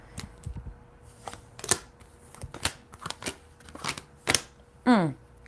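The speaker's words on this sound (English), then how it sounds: "All these cards just flew out." Tarot cards shuffled by hand, with a string of sharp flicks and slaps as cards fly out of the deck, then a brief riffle near the end, fairly close and quiet.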